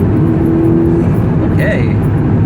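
A Volkswagen Mk6 GTI with an extended K04 turbo pulls at 4,000 RPM, a loud, close engine drone heard from inside the car, with a brief higher whine and a talking voice partly over it.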